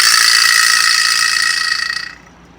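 A Latin American percussion instrument rattles rapidly as a struck ball sets a metal rod vibrating, producing a loud, bright, continuous buzzing rattle that holds steady for about two seconds before cutting off abruptly.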